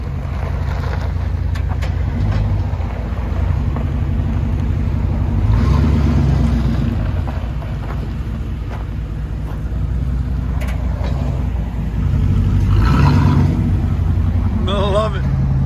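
A 1989 Chevy Suburban with a 5.7L V8 and straight-piped dual exhaust drives along, its deep, loud engine rumble steady throughout with swells as it accelerates, while people talk over it.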